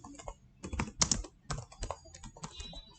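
Keys clatter on a computer keyboard while HTML code for lists is typed, an irregular run of close, clicky keystrokes with brief pauses between bursts and no talking.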